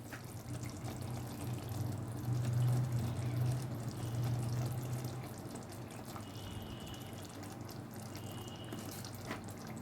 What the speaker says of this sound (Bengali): গ্রেভিটা আমার খুব সুন্দর ফুটে উঠেছে